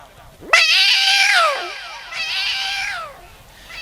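A person imitates a cat's meow twice, drawn-out, wavering mewing calls, loud and close, with no other sounds around them.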